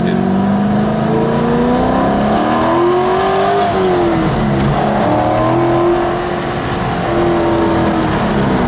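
A Corvette sports car's engine revs and accelerates loudly from inside the car, its pitch rising through several gear pulls in a steady drone with a brief dip partway through.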